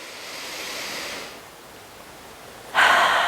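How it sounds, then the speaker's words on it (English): A slow, deep breath during a yoga neck stretch, a soft airy inhale fading into quiet, then a stronger breathy exhale rushing in at the end, close and alone. "Take a couple breaths into that."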